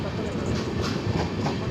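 The Lingampally–Vijayawada Intercity Express moves along the rails, a continuous close rumble of carriage noise with faint clickety-clack from the wheels.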